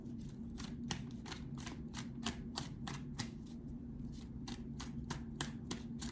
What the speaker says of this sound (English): I'm going to pull a couple more cards here